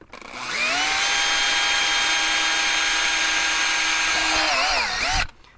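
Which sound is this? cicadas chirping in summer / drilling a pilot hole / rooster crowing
drilling a pilot hole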